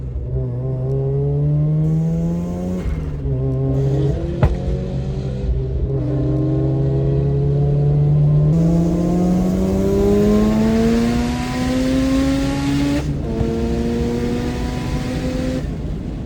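Rotary-swapped Subaru BRZ engine running at 8,000 RPM under full load with 26 pounds of boost, a loud, continuous buzzing drone whose pitch climbs and shifts through several rises and drops.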